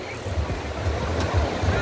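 Ocean surf at João Fernandes beach in Búzios, Rio de Janeiro, a steady, low, rumbling wash of waves with no speech over it.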